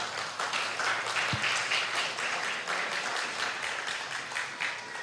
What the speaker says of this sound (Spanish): Dale palmas al Espíritu Santo.